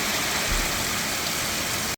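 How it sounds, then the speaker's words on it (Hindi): Heavy rain in a storm outside a home, a dense, loud, continuous hiss of downpour filling the whole short stretch before cutting off abruptly at the end. "तूफान उठा हुआ बारिश के साथ।"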